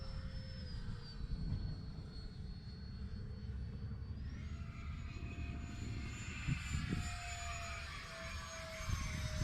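A model airplane engine on an E-flite Habu STS RC jet flying at full speed drones steadily at high pitch, its whine rising and holding loud over outdoor wind noise.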